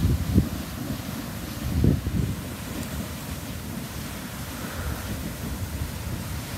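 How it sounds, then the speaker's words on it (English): Daisy Geyser in Yellowstone National Park erupting, a steady rushing roar of water and steam under gusts of wind buffeting the microphone, with no talk. "Daisy Geyser eruption lasts about 3 to 5 minutes, and this was no exception"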